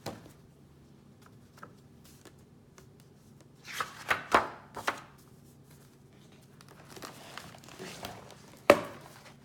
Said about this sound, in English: I'm just going to kind of flip through them so you can see that how many stamps we're talking about